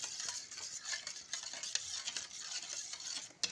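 Tamarind sharbat seasoned with salt and cumin powder is stirred in a vessel, quick soft swishing and light clinks repeating close and faint.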